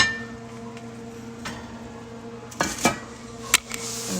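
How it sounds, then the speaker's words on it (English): Lids go back onto hot pots holding no-knead artisan bread dough, a few sharp metallic clinks and clanks near the end after a quiet stretch with faint handling, close by and clear, with no talking. "Got the breads just set in the bottom of the pots here, and I'm just gonna get their lids back on."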